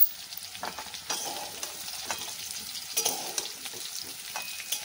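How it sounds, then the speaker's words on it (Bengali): Young jackfruit and potato pieces fry in hot oil, giving a continuous crackling sizzle with sharper pops and scrapes as a spoon stirs them. No voices are heard. "এঁচড় আর আলু খুব ভালো করে ভেজে নিয়েছি, নামিয়ে নেব।"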